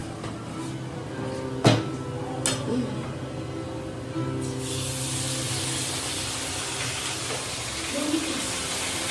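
Onions sizzling in a pan of oil for a meat dish in a home kitchen, a steady bright hiss that swells louder partway through, with a few clanks and a person talking.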